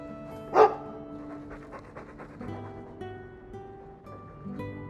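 A dog pants in the video game Dragon Age 2, quick rhythmic breaths that follow a single loud yelp or bark near the start, close and clear over soft background tones, with no speech.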